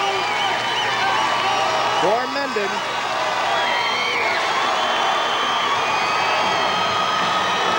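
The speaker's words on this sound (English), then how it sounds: "You can hear the crowd. Oh, it's getting wild." Crowd at a 1991 high school football game between Mendon and Lake Linden roars with steady cheering and shouts throughout, with a commentator talking over the noise.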